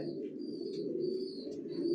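Racer pigeons in a loft cooing softly and continuously, a low steady warble with faint higher chirps from nearby birds.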